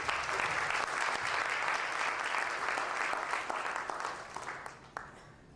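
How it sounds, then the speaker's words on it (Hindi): A church congregation at a Hosanna International Church convention breaks into loud, sustained applause, a dense wash of many hands clapping together that holds steady before tapering off near the end. "एक बार जोर से ताली जाके प्रभु के वचन के लिए धन्यवाद करें।"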